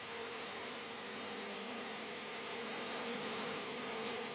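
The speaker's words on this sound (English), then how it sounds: "he finally found a swarm of bees within a rock crevice" A dense, steady insect buzz fills the whole stretch, the constant hum of many bees close by in a rock crevice, with no voices.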